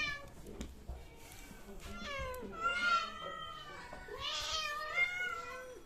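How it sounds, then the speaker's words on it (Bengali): A small cat meows repeatedly, several clear, rising and falling cries in close succession, near and moderately loud in a quiet indoor setting. "ছোট্ট একটা ডবি ক্যাট"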